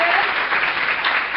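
Church congregation claps together in a brief, dense burst of applause during a sermon, loud and steady throughout.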